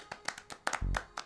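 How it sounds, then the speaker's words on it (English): A handful of hand claps sound in a short, uneven burst, fairly faint, with a brief low hum partway through. "Everybody clap for Matt."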